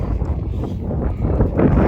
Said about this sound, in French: j'espère que tu m'entends, parce qu'il y a du vent.